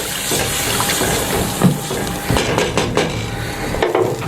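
Two to three glasses of water pour into meat cooking in a pot for degi aloo gosht, a steady wet rush with a few clanks and knocks, close by and fairly loud.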